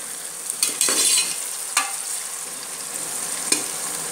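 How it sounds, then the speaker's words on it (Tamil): Onions and four green chillies fry steadily in a pan for coconut milk rice, a continuous close sizzle broken by a few sharp stirring scrapes near the start, middle and end; no one speaks. "வெங்காயம் கொஞ்சம் வதங்கி வரட்டும்"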